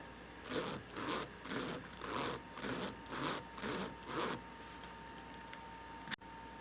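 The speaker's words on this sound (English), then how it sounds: "Then it tells you to work the zipper back and forth." A zipper treated with Star Brite snap and zipper lubricant is worked back and forth: about seven even rasping strokes, close and fairly quiet, followed by a sharp click.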